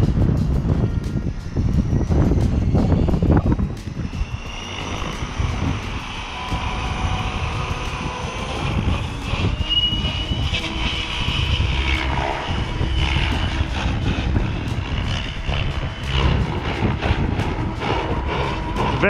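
A small engine whines steadily overhead while strong wind buffets and roars across the microphone, the motor pitch rising and falling as an OMPHOBBY M5 RC helicopter flies.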